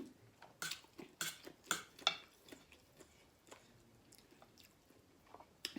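Spicy som tam papaya salad being eaten up close, with wet chewing and biting bursts for the first couple of seconds, then softer intermittent mouth sounds and faint clinks of a dish or utensil.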